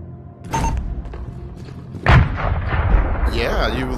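Explosions and gunfire in the VR shooter game Zero Caliber 2, with several sharp booming blasts and thuds, one heavy close impact midway, over loud continuous battle noise and a rising whine near the end.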